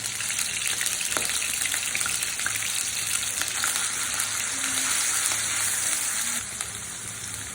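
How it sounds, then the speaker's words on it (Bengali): Onion paste fries in hot oil in a wok, giving a constant bright sizzle with a few light clinks and stirs, close and unbroken, no voices over it. "এখন কড়াইতে তেল দিয়ে দিয়েছি। এখন হচ্ছে আমি পেঁয়াজ বাটাটা দিয়ে দিচ্ছি।"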